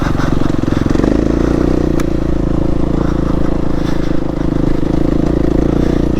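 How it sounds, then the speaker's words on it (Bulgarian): An enduro motorcycle engine drones loudly and close in low gears on a town ride, a steady, rough, throbbing rumble held for several seconds with slight clatter and no clear change of pace. "Тук редуваме първа и втора предавка, ако вкарам трета ми идват много ниски оборотите."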